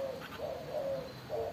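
A zebra dove (perkutut) gives a short series of soft, clear coos, three or four brief notes close by and fairly quiet against faint background hiss.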